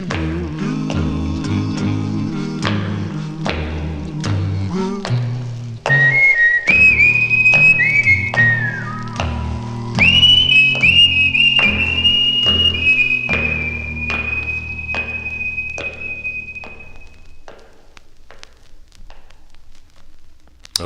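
Whistled melody from a 1957 record, a clear sustained tune carried over a walking band accompaniment, running for most of the stretch before fading out near the end.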